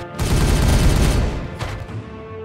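Heavy gunfire from the strategy game Warhammer 40000: Regicide, a dense booming volley that roars loudly for about a second and a half, then thins into lingering rumbling echoes with no voices over it.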